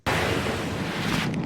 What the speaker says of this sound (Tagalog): habang binabayo ng malakas na hangin at ulan ang Nueva Ecija